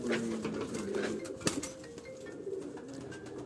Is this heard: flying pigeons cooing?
yes